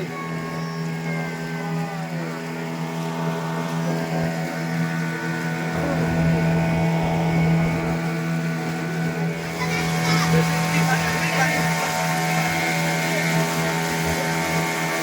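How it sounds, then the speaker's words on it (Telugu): A motorboat passing on the water in a Puducherry boating area near a fishing harbour, a steady engine drone with wind noise that swells midway, while people talk faintly over it. "మా వెనకాల కూడా ఒక బోట్ వస్తుంది, మనం చూడొచ్చు."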